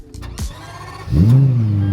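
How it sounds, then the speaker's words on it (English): A car engine started by push button cranks briefly after a faint click, then catches and settles into a loud, steady idle close by. "You press this button right here"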